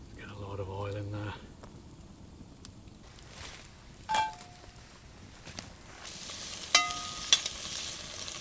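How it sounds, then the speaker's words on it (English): Onions and beef frying in plenty of oil in a Dutch oven over a campfire outdoors, a soft steady sizzle with occasional stirring clinks and knocks, fairly quiet, with a brief voice at the start. "just to fry off the onions and the beef"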